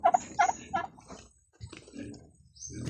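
Farm turkeys kept for breeding gobble in three quick, loud, close bursts, followed by softer shuffling and scattered faint calls.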